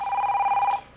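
A telephone bell rings in one loud, close trilling burst, under a second long, with no talking over it.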